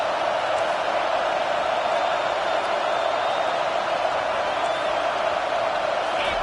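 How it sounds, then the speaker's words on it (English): A stadium crowd roars steadily at an Alabama versus Michigan football game on third down, a dense, loud, unbroken wall of noise throughout. "Decibels rising as the crowd gets behind this defense on third down."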